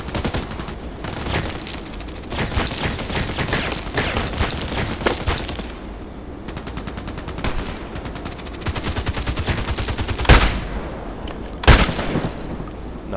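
Sniper rifle fire in the Contract Wars shooter, with two sharp, loud shots standing out late amid a dense, continuous clatter of gunfire and battle noise.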